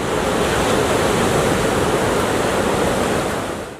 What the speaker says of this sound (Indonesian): Ombak di Pantai Tanjung Setia jadi surganya para peselancar, sebab ombaknya bisa hingga setinggi 4 meter